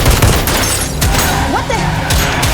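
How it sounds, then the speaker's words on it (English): Loud, dense movie gunfire fills an armoured-truck hijacking scene, with rapid overlapping shots and booms crowding the whole stretch at close range. "Can we stop the shooting?"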